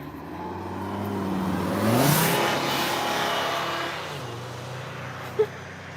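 A loud car engine revs and swells as it rounds a corner on a road near a Tennessee hiking spot, rising to a peak and then fading, fairly close and steady with no talk.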